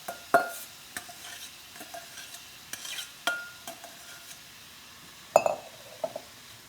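Minced celery and onion sauté softly in a hot pan for a holiday dressing, a faint steady sizzle broken by several scraping stirs and light clinks of a utensil against the pan, with no talking.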